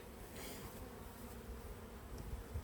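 A weak honeybee hive hums with a faint, steady buzz during a spring inspection, a soft continuous drone with no voices.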